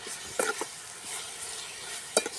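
Onions sautéing and stirred in a pan for a village-style peas kurma, a quiet steady sizzle broken by a few crisp clinks and scrapes of a spatula, heard close with no talk.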